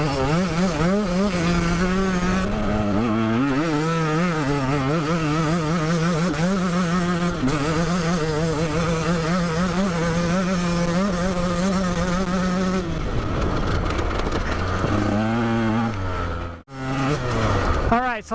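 A 2017 Husqvarna TE 150 two-stroke dirt bike ridden hard at speed, its engine wailing loud and close with rising and falling revs through gear changes, then dropping off briefly near the end before revving again.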